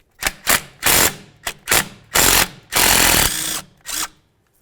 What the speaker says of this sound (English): I'm going to go ahead and use a 10mm to remove that bolt.